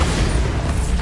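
The Bombarda spell in Hogwarts Legacy erupts in a loud, rumbling blast with heavy low thunder and a crackling burst that fills the whole moment.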